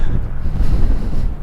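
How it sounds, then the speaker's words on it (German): Strong gusty wind at Ilulissat Icefjord, Greenland, buffets the microphone, a loud continuous low roar with no other sounds. "ziemlich windig"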